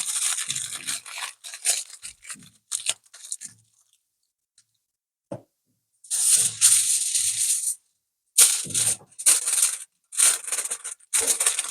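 Crinkly aluminium foil rustles and crumples in bursts up close as homemade stock cubes are wrapped, with short pauses between handling sounds.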